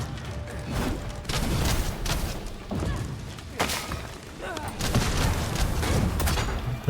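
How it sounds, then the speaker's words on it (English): A big zombie blows up in the game Dragon's Dogma 2, a rumbling burst of booming, crackling impacts over several seconds amid general game noise. "Okay, oh god, he's gonna explode."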